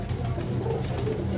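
Pigeons in a flock of thirty birds, fifteen pairs, cooing in low continuous murmurs, close and steady throughout with a dense rumbling background.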